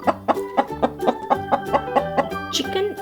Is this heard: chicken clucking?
yes